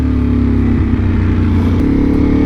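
Ducati Panigale V4 motorcycle engine while riding, a loud, close, continuous rumbling drone with steady pitch and wind roar, no talk.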